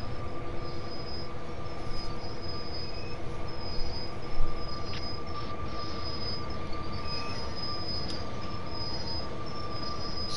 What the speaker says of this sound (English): In case the train rolls back or whatever.